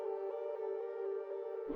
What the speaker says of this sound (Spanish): otro sonido misterioso fue captado por los hidrófonos de la Administración Oceánica y